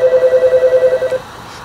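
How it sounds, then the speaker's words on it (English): A telephone rings in a steady, rapid pulsing electronic trill for just over a second, fairly loud and close, then cuts off, leaving quiet room tone. "my phone is ringing"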